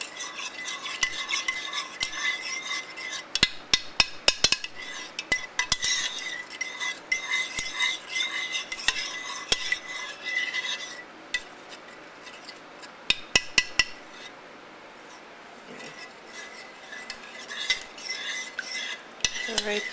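Gravy for crock pot chicken and stuffing whisked in a pot, rapid clinking and scraping of a utensil against the sides in bursts, close and fairly loud, with a short quieter stretch and no talk.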